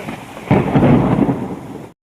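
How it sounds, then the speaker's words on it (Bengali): A heavy hailstorm with lightning, a loud burst of thunder and hail rumbling in close, starting abruptly and holding steady for over a second before cutting off. "পাথর পড়ছে, খুব পাথর পড়ছে, এই নিচে একদম সাদা হয়ে আছে, ছোট ছোট"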